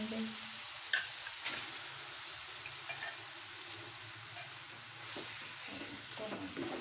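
Marinated chicken pieces stir into oil-released masala for a restaurant-style boneless chicken handi, sizzling and frying steadily with spoon scrapes and clinks, a few brief words spoken over the cooking.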